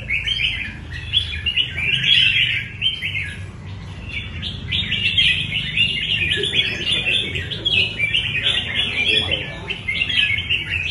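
Many competition songbirds, about 28 on the floor of a contest, sing and chirp at once in a dense, continuous bright chorus over low background rumble.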